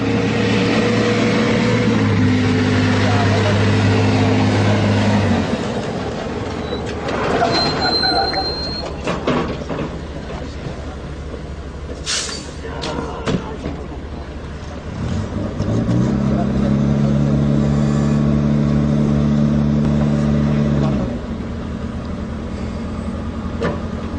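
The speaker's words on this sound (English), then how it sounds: "You will now see the Bofors gun towed by a tow truck called the Scania." A Scania tow truck hauls an Indian Army Bofors gun, its engine droning loudly with rising and falling tones, fading mid-way and then returning with a steady diesel roar.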